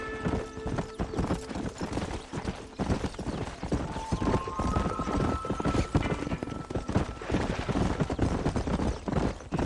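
Hooves of several horses gallop in a fast, steady clip-clop rhythm in the Western game Red Dead Redemption, loud and close throughout, with a brief whinny.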